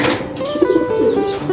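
A racing pigeon back home after a Buenavista race coos in short throaty burbles, close and clear over a steady outdoor background.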